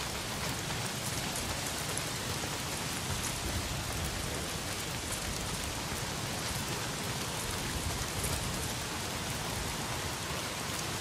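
Heavy rain pours down in Days Gone, a dense, steady roar of drops hitting surfaces that stays loud and even throughout, with no voices.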